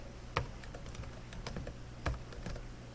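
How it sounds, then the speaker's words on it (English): Typing on a computer keyboard while entering commands into a terminal console for flashing Tasmota firmware onto a Sonoff Basic: faint, irregular key taps over a low steady hum, with a couple of slightly sharper presses. "So we'll type IP address"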